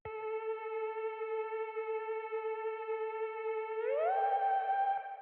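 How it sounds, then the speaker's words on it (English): A clean synth lead holds a bright sustained tone, then glides upward into a higher note, alone with no other instruments. "And this melody, the same synth I use in the break."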